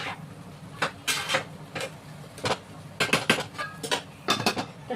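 Metal clinks and clatters as a lid is set over a cooking pot of salted banana stem in a home kitchen, a scattering of short sharp knocks, some in quick pairs, fairly close and with no voices.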